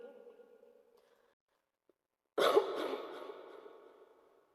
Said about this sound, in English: Bombastic cough